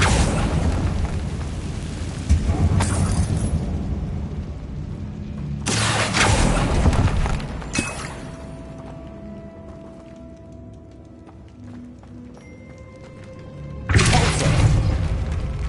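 Incendio and Accio spells cast in the Hogwarts Legacy video game, heavy booming bursts with rumbling tails separated by quieter stretches of game ambience and tones, loud and close.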